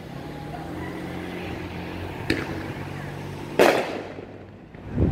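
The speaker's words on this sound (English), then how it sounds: "And there goes some more fireworks." Fireworks go off during a total solar eclipse in Charleston, South Carolina, with two sharp bangs a little over a second apart over a steady background hum.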